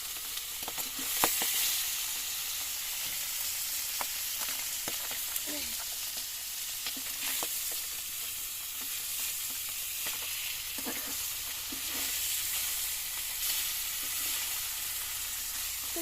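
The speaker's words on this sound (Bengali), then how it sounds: "ঢাকা দিয়ে মাছ ভাজছিলাম আর এখন দেখো এটা বাবা তাও তেল ছিটকাচ্ছে এখন" Fish frying in oil inside a covered pan on a stove, a steady close sizzle with occasional sharp spatters and pops of oil throughout, no talking.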